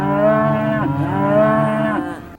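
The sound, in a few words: cows mooing at Knapford Station in Roblox video game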